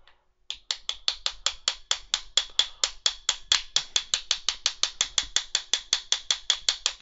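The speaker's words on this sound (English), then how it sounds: "A plastic hammer is really good for this." A plastic hammer taps a retaining pin into a WE gas blowback airsoft gun in a steady run of about thirty sharp, evenly spaced clicks, close and crisp, with no talking.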